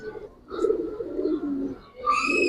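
High flyer pigeons coo nearby in soft, throaty rolling phrases, one call after another, with a brighter chirping sound rising at the end and no clear talk.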